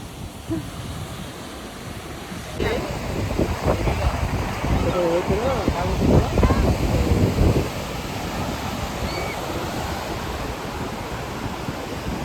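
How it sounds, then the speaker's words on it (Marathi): Rough, churning sea surf at New Golden Beach, a broad continuous wash of breaking waves mixed with wind buffeting the microphone, swelling louder for a few seconds mid-way, with a voice talking over it. "किती खवळलेला समुद्र आहे"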